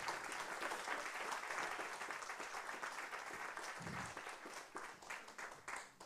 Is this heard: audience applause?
yes